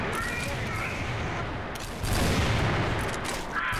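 Gunfire in the shooter game Crossfire, a continuous crackling burst of shots at moderate level that grows louder after the midpoint, with chatter faintly mixed in.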